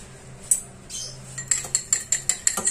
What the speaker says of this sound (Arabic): صافي نخلطو مزيان